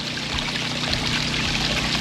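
Well water gushes from a newly drilled well pump and pours out in a steady, close splashing stream, a continuous rushing flow with no talking.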